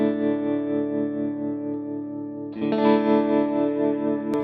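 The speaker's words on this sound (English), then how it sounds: "I think we use the optical tremolo on a sine wave." An electric guitar plays through a Line 6 Helix set to an optical tremolo on a sine wave, giving a smoothly pulsing sustained chord that shifts to a brighter chord midway.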